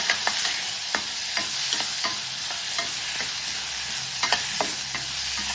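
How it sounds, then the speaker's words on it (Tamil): A chopped onion sizzles and fries in a hot pan for a mushroom pepper fry, with a spatula scraping and stirring at irregular intervals. "ஒரே ஒரு வெங்காயம் சேர்த்துக்கணும் சேர்த்துட்டு நல்லா வதக்கணுங்க"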